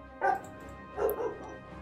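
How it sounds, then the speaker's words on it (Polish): A dog indoors gives two short yipping barks in a quiet room, the first near the start and the second about a second later, fairly close. "Wiecie, że przez ten cały czas ani razu pies nie zaszczekał i dosłownie teraz zaczął."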